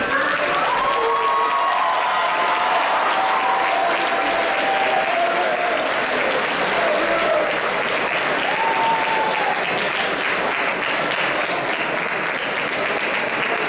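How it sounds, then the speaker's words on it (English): A large crowd at a grades 9–12 school awards ceremony gives loud, sustained applause, an even wash of clapping for the full fourteen seconds, with faint cheering or voices rising above it. "let's have a large round of applause"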